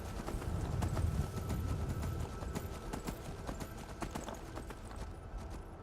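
Rapid hoofbeats of a galloping horse pound along steadily, loud and close, fading slightly toward the end, in the video game Skyrim.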